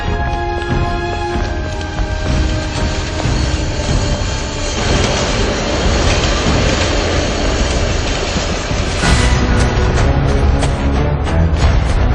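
A subway train rumbles loudly and continuously, with rail clatter and a brief metallic squeal toward the end.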